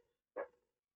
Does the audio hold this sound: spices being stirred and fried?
no